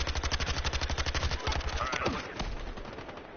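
Rapid machine gun fire from an MG36 in the Battlefield Hardline shooter, a steady loud burst of evenly spaced shots that stops partway and leaves a fading tail.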